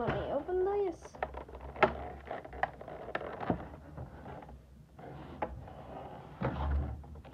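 A Pokemon Galarian Rapidash V card box is opened, with cardboard flaps scraping and sliding, knocks and thumps, and packaging rustling up close in uneven bursts.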